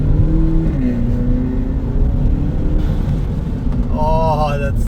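Audi 1.8 TFSI turbocharged engine heard from inside the cabin, a loud steady engine drone rising under boost with a short whistling flutter toward the end.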